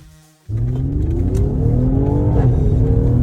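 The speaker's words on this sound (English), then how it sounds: "Did you hear changing gear?" A Mercedes-Benz GLE450 AMG Coupe engine revs up loudly and close, pitch climbing steadily, with a shift into the next gear partway through as the revs drop and rise again.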